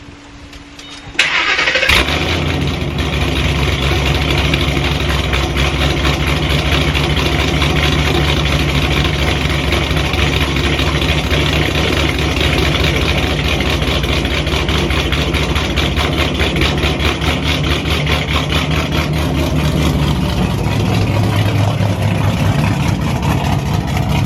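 Modded car with a loud exhaust cold-starting, a sharp crank catching into a deep, steady idle that rumbles on close and loud with no talking.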